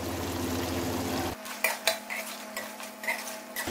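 Green chillies and salt being sautéed into chicken karahi, Peshawari charsi style, with a sizzling pan followed by several metallic scrapes and clinks of a spoon stirring against the pot.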